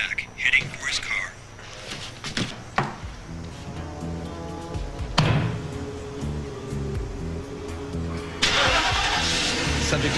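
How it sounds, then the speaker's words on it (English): A car engine cranks and turns over, with clicks and handling noises before a fuller engine roar and a hissing surge near the end, mixed with background scene sounds. "Subject is starting his car."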